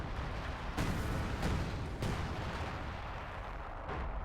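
Sector artillery fire in the World War II strategy game Company of Heroes 2: heavy booming shell impacts land in a rough sequence over a continuous rumbling battlefield din.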